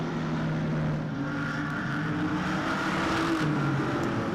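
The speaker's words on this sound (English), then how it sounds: "The rest of the cars coming through." Stock cars racing past on a New Zealand speedway track, a steady loud roar of several engines blending together at a distance.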